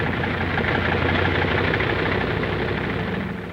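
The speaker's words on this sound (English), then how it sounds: "The sound of the engines warming up starts before dawn, echoing back from the mountains that flank the field." Several 1943 bomber aircraft engines warm up on an airfield flanked by mountains in the Aleutians, a steady loud droning rumble that holds constant throughout with no voices.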